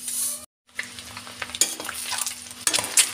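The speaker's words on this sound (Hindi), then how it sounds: "यहाँ पे प्याज गलाया जा रहा है" Chopped onions sizzle and fry in a hot pan while being stirred, giving a steady crackling hiss with scraping stir strokes near the mic.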